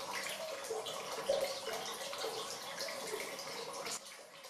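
Spring water flows steadily over ancient rock in the Malvern Hills, England, a continuous rushing and splashing wash with a few brief louder spurts, close by and without voices.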